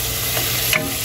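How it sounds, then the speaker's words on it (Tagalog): Beef seasoned with salt and black pepper sizzles steadily in a hot pan while a utensil stirs, with a brief scrape near the end, close and fairly loud, no talking. "Tapos, stir natin muna para maluto sa loob niya."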